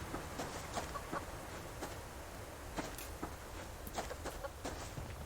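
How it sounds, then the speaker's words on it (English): Chickens clucking in a video game, scattered soft clucks and clicks over a steady wash of ambient game noise with faint footsteps. "More chickens."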